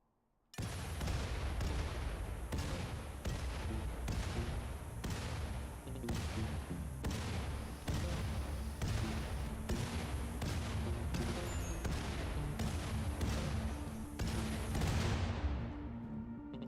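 Grenades go off in RimWorld during a Wasters-only Archonexus run, a long barrage of sharp, loud blasts and impacts repeating at a fast, steady pace for about fifteen seconds before cutting off.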